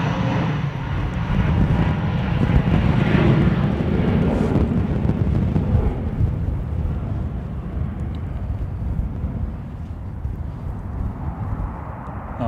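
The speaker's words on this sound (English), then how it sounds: "The older aircraft definitely noisier," Older airliners at London Gatwick Airport in stormy weather, a loud continuous jet engine roar close by that holds steady, then slowly thins and fades toward the end, with wind noise underneath.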